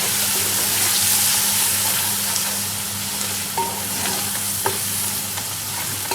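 Minced keema with ground spices and cumin is stirred in a hot pan over full heat, giving a steady sizzle and frying hiss with occasional scraping of the spoon.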